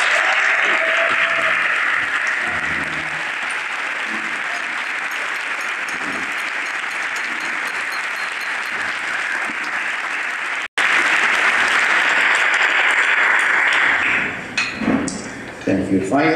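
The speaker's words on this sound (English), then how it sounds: "giant round of applause" Sustained applause from a large crowd at a State of the City address fills the room, loud and continuous, cutting off briefly before resuming and then tapering into scattered claps.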